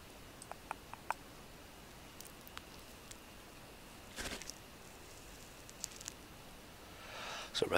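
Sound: rain in the video game Don't Starve

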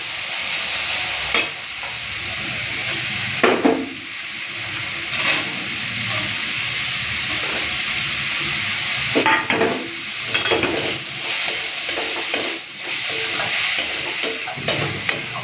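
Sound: red spinach frying and being stirred with bori and peanuts

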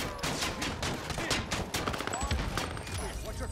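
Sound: gunfire in the video game Warzone

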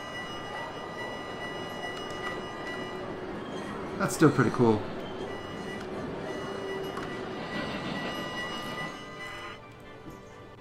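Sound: trains passing in the video game Cities Skylines

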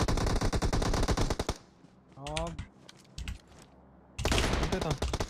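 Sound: gunfire in the video game PUBG Mobile

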